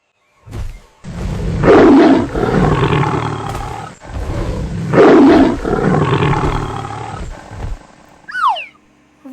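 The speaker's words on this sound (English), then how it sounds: "Tiger." A tiger lets out two long, loud, rumbling roars close by, each swelling and fading with a gap between, followed by a few brief high whistling chirps at the end.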